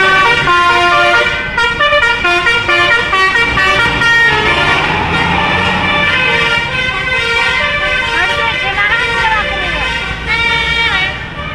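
Basuri telolet musical horn on the Mahardika 46 Reborn bus, playing loud, close, continuous melodic tooting phrases with shifting pitches, a steady engine rumble underneath.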